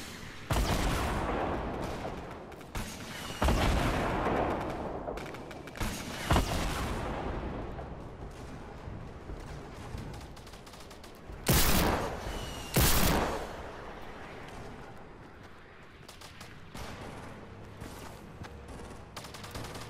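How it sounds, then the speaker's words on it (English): Heavy gunfire and explosions in Fortnite Battle Royale rumble continuously, with several sharp, loud blasts standing out above the dense, chaotic barrage. "It's like so much explosions."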